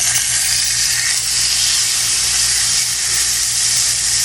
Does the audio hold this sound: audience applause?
no